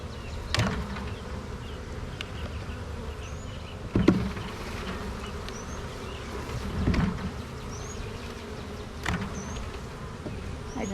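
Honey bees swarm and buzz steadily around an opened hive during a colony split, a dense continuous hum with a few louder passes and thumps near the hive.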